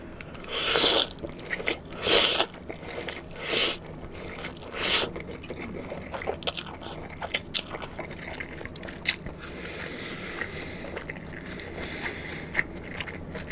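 Someone eats Korean BBQ pork belly and spicy Buldak noodles close to the mic, with a few loud crunchy bites early on followed by steady quieter chewing and slurping, no talking.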